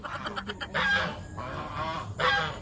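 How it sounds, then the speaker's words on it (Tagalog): Loud, harsh goose honks in several bursts, close by, with a quieter stretch of squawking between the louder calls. "Guys, may gansa, guys."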